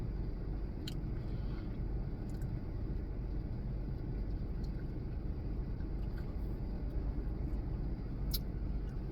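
A steady low rumble and broadband road noise fill the cabin of a moving car, with a few faint clicks over the constant hum.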